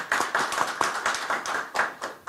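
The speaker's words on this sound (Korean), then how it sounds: "먼저 박수로 맞아주시기 바랍니다." Audience clapping to welcome the Democratic Party's Daegu chapter chair at a policy debate forum, a short burst of close, brisk, uneven hand claps with no voices over it.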